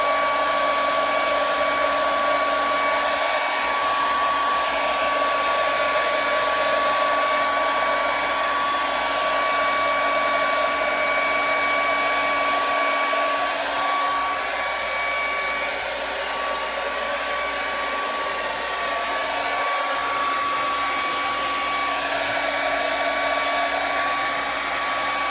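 A hair dryer runs continuously at close range, a steady loud whooshing hum with a high whine, unbroken throughout.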